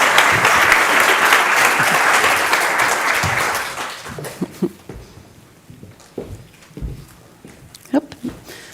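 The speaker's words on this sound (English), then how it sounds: "So big applause for our speakers." Conference audience applauding speakers at an autonomous vehicles event, a burst of loud clapping that fades after a few seconds into scattered claps, footsteps and talk.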